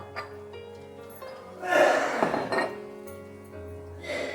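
Oats being rinsed with water in a bowl, with soft splashing and clinking of the bowl, busiest in the middle of the clip and quieter toward the end.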